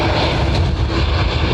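TUI airliner jet engines roaring steadily at Dublin Airport during departures, a loud, broad and constant rumble with no voices.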